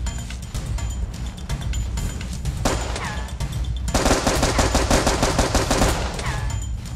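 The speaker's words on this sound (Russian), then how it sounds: "Ого, стреляю!" Automatic gunfire from pirates in the video game Tropical Escape, loud rapid bursts that start up and cut off, with a dense stretch of sustained fire later on and no voices.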